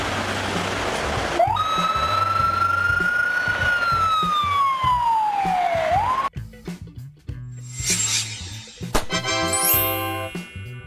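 A Bulgarian ambulance, a Mercedes-Benz Sprinter, Volkswagen Crafter or Fiat Ducato type, sounds a loud rising and falling wail over road noise, then switches to quick warbling yelps.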